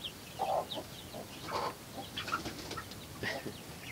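A broody hen and her young chicks cluck and cheep softly in short, scattered calls, with faint chirps close by in a quiet farmyard.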